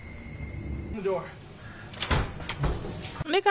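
Door in a horror movie creaking and thudding, with sharp knocks and bumps over a tense background and people talking and reacting over it.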